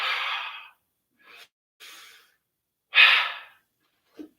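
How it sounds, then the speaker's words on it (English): Heavy breaths in and out during a wall push bodyweight exercise: a long exhale, two short soft breaths, then another strong exhale, all close and clear against silence, ending in a brief snort-like puff. "And breathe."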